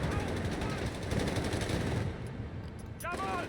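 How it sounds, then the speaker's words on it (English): Machine gun fire in Company of Heroes 3, hitting an M8 Greyhound armored car, sounds as a dense, continuous rattle of gunfire with battle noise for about two seconds, then fades into quieter ambience with a brief sharp burst near the end. "Machine gun's opening up the Greyhound, not doing too much damage."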